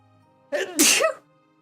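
A single sharp sneeze, close and abrupt, with a short inhaled build-up before the burst.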